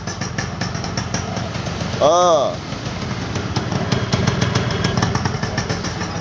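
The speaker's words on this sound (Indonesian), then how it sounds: "Siapa tahu teman-teman yang ingin mendengarkan mesinnya." A Yamaha RX King two-stroke motorcycle engine idles with a steady, rapid putter, close and fairly loud, briefly joined by a rising and falling whine; someone speaks over it.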